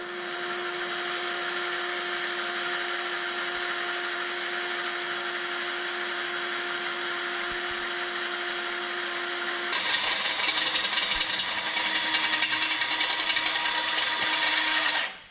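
Power tool cutting through a metal weight bracket, a loud continuous whine with a steady tone that shifts and roughens partway through, close and alone without talk.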